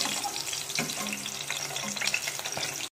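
Eggplant frying in oil in a home kitchen, a faint, continuous crackling sizzle with scattered pops, heard alone without talk.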